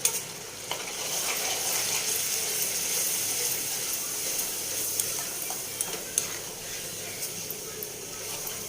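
A paste of onion, garlic and ginger sizzles steadily in hot oil for a tadka, with a dense, even crackle and a few sharper pops and scrapes running through it. No one speaks.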